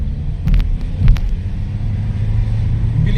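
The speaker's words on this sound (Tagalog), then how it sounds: "Bilis ng arangkada. Kunting apak lang." A car pulls away quickly on light throttle, its engine a loud, close, low rumble that swells as it accelerates, with a couple of brief sharper knocks near the start.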